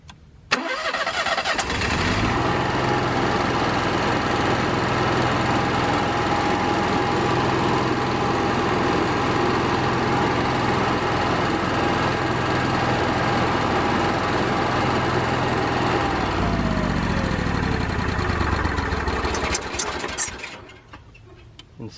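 An Onan RV generator cranks briefly, catches and settles into a steady, loud, close running drone, then is shut off and winds down near the end.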